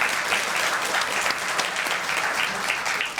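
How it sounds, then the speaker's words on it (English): An audience at a maternal health symposium applauds with a dense, steady round of clapping that stays fairly close and even, with no voices over it. "let's give everyone a round of applause"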